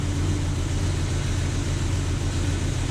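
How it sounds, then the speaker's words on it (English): A car engine running steadily at idle, with a constant low rumble and hum, loud and close while the steering wheel is turned during a front end inspection, and no voices. "we're going to start the vehicle and we're going to turn the wheel one way and then turn the wheel the other"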